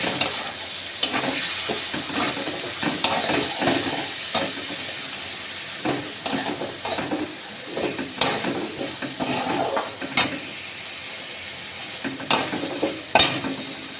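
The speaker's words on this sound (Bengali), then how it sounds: "ভালো করে নাড়াচাড়া করে নেব" A spatula scrapes and stirs vegetarian kohlrabi curry with salt in a sizzling pan, giving repeated clattering strokes over a continuous frying hiss. The stirring comes in irregular bursts close to the listener, with no voices.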